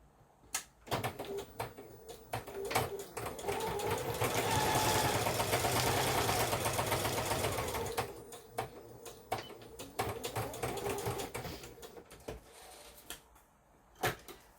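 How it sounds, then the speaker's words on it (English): Sewing machine running a quick line of stitching across the top of fabric, a steady mechanical whir building up and holding for several seconds, with brief handling knocks and clicks before and after. "I'm just going to do a quick stitch across the top here"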